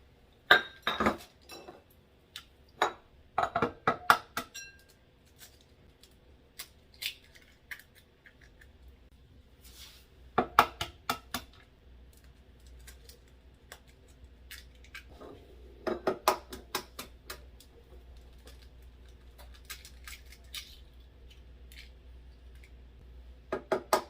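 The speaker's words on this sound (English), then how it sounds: "I'm just beating up my eggs before I add them to my mixture" Four large eggs beaten in a bowl with a utensil for sweet potato pie filling, quick clinking bursts of metal against the bowl in irregular clusters, with pauses between rounds of whisking, close and fairly quiet.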